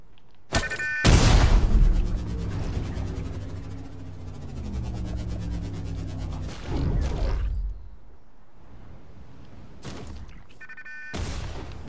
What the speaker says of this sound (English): I'm gonna do my plasma grenade